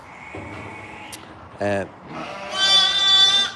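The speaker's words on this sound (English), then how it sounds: "so one of our very own homebred sheep" A homebred farm sheep bleats close by, a harmonic call of about half a second, followed by a longer wavering bleat, with a voice speaking briefly before it.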